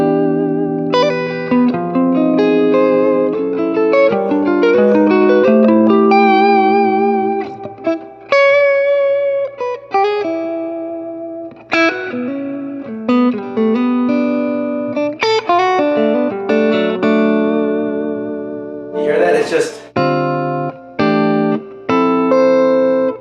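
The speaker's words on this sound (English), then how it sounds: "right now I have the reverb almost all the way up and you can tell that's a lot of reverb" An electric guitar plays through a Swart AST Pro amplifier with the reverb almost all the way up, ringing chords and single notes trailing off into long, lush tails, loud and up close with no talking.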